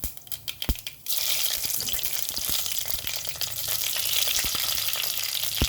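Dried red chillies and mustard seeds fry in hot oil for tomato rasam. A few sharp clicks come first, then a loud, steady, close sizzle runs to the end, with scattered pops.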